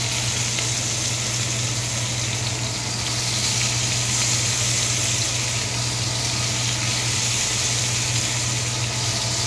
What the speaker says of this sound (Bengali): আমি কুকারে একটু তেল দিয়ে তার মধ্যে একটু কাঁচা পেঁয়াজ আর লঙ্কা দেব।